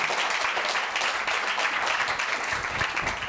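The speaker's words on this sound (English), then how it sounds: "Give him a big round of applause" Audience applause at a fireside chat event, a dense wash of many hands clapping together at a steady moderate level, sustained for the whole stretch with a few sharper claps near the end.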